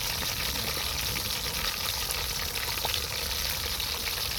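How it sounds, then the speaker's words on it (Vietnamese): Fish frying in a pan in a home kitchen, a steady, dense sizzle running unbroken from start to finish at close range with no talking. "Để cô chiên cá chín nữa rồi với cô trò mình ăn."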